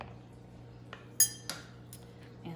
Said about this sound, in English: now we're gonna add in 2 more teaspoons of titanium dioxide.